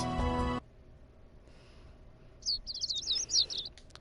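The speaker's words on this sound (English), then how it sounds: "The sound of birds chirping slowly rises me from my dream into consciousness." Several bright, quick bird chirps from a video game twitter together near the end, after a brief musical tone at the start and a quiet stretch.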